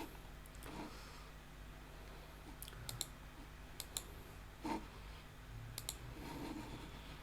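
Computer mouse clicks during sign-in on the IRCTC railway booking website, a handful of sharp, isolated clicks spread irregularly over a quiet, hissy room background.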